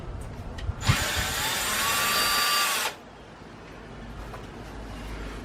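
Power tool spinning out an 8mm radiator bolt, a single loud whirring burst of about two seconds with a rising whine, close up, followed by quiet room noise.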